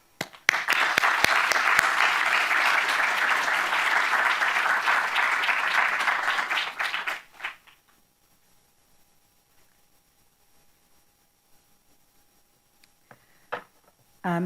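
An audience at a contemporary photography forum applauds a speaker to the podium, a dense, sustained round of clapping lasting several seconds, then fading abruptly into near silence with a few faint knocks.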